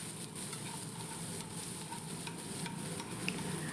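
Onions fry in a pan with a faint, steady sizzle and occasional soft stirring scrapes, heard alone.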